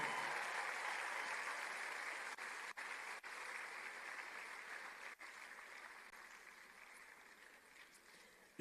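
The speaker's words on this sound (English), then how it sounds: "Continue clapping." An audience at a tech festival in Enugu keeps clapping for an introduced guest, a steady dense wash of applause heard alone that thins slightly toward the end.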